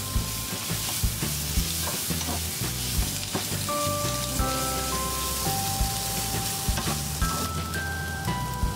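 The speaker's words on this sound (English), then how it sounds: "add your bacon and continue to cook on a medium-high heat for about 2 to 3 minutes until the bacon starts to brown slightly" Bacon and onions fry over medium-high heat in a pan, giving a steady crackling sizzle broken by stirring scrapes, with faint tonal notes in the background.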